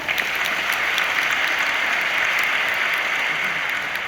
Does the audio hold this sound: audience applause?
yes